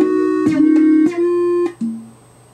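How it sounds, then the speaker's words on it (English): A synth plays sustained, slightly buzzy tones in a loose rolling pattern, with short plucked accents breaking in between held notes. "Like now it might sound like this rolling groove synth over here."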